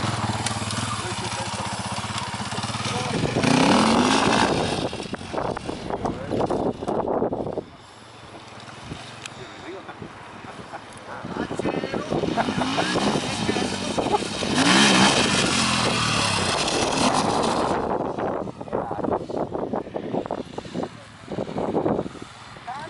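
A motorcycle accelerates hard, engine revving up in surging bursts with a pause between runs, close to the microphone amid wind noise.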